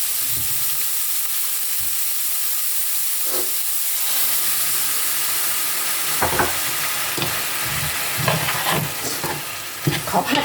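Spicy frog stir-frying in a pan gives a steady hiss and sizzle with irregular scraping stirs that grow busier toward the end, close by and with no talk.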